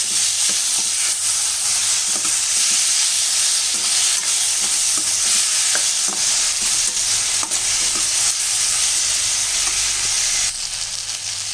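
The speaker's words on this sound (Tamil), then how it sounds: "இப்போ வந்து நம்ம இதில் சால்ட்டு போட்டால் நல்லா தக்காளி வெங்காயம்லாம் நல்லா வதங்கி வரும் இப்போ இதை நல்லா கொஞ்சம் வதக்கிடலாம்" Onions and tomatoes sautéing with salt in a pan for tomato rice, a steady loud sizzle and frying hiss running throughout, with scattered soft scrapes and clicks of stirring layered on top and no talking.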